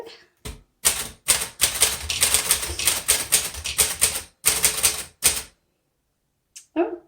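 A 1938 Corona Sterling vintage manual typewriter clatters with close, crisp key strikes in quick bursts, broken by short pauses and a longer silence near the end, then a few more keystrokes.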